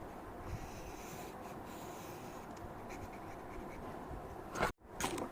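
Pen or marker writing out a factored algebra solution, a steady scratchy stroking across the surface for several seconds, close and fairly quiet, ending in a brief bump and a short dropout.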